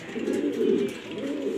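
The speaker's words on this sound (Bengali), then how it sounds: "এখানে এটা মুসমুসে কালো একজোড়া কবুতর" A pair of jet-black pigeons cooing softly nearby, a low, rolling, throaty coo that swells and eases in a continuous murmur with no other sounds.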